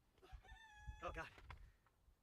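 A rooster crows briefly among a backyard flock of about thirty chickens, faint and distant, with low clucking and muffled background noise.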